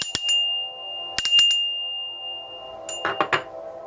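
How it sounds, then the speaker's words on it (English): A small bell is struck three times at spaced intervals, each ring bright and clear with a sustained ringing tone that fades slowly, in an otherwise quiet room. "I'm going to ring the bell 3 times."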